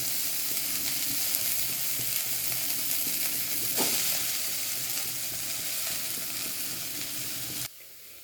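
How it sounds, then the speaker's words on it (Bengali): Fenugreek greens fry in mustard oil, giving a continuous loud crackling sizzle close by with light stirring clatter, steady throughout before dropping away abruptly at the very end, no voices. "আমি মেথির শাকটাকে ভেজে নিচ্ছি"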